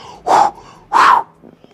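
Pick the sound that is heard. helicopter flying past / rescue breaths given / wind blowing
rescue breaths given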